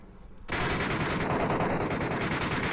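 Sustained automatic fire from a repaired SCAR-L 5.56mm rifle in the Metro Royale game bursts in loud after a half-second lull and continues as a dense, rapid, unbroken stream of shots.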